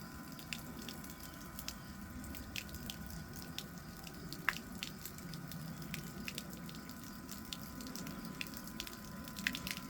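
Liquid trickles and drips quietly while fuel is pumped from one container to another, a faint, steady flow with small splashes and clicks and no voices.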